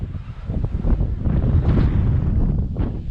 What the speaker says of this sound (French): Avec le vent qu'il y a